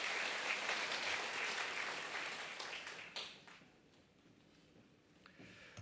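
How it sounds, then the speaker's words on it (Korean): Church congregation applause during a Sunday worship service, moderately loud at first, then tapering off after about three seconds to a few scattered claps and quiet room noise. "우리 하나님께 영광의 박수 올리겠습니다."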